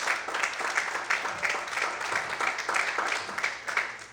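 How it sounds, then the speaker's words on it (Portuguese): A congregation at a church service claps together, a steady rhythmic patter of many hands at moderate loudness with regular beats, continuing unbroken for about four seconds. "Quantos podem aplaudir e exaltar esse Deus bem forte?"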